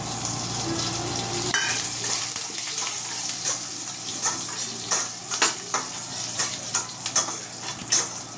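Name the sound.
garlic and curry leaves frying in hot oil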